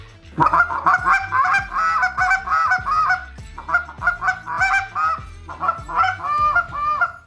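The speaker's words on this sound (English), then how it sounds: "give it a test run and blow the call and see how it sounds" A goose call honks in quick, repeated bursts, loud and close, with short pauses between runs of clucking honks.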